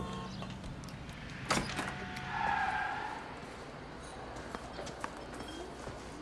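A car speeding through the streets in the L.A. Noire video game, with a steady engine drone, a sharp thump near the start and a brief whining swell, fairly loud throughout.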